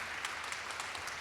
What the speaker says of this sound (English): like a proper round of applause, please